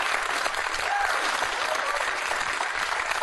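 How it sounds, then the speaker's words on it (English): Studio audience at a comedy panel show breaks into dense, steady applause, a loud continuous wash of clapping sustained without pause and no talk over it. "I try to discourage applause"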